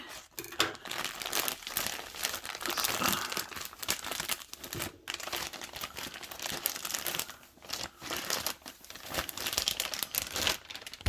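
Plastic packaging around a set of queen-size Egyptian cotton bed sheets is cut open and pulled away, giving a loud, continuous crinkling and rustling close by with no voices.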